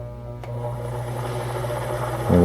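A professional bobbin winder's motor hums steadily and close by, a constant droning whir that thickens and grows a little louder near the end, with no voices over it.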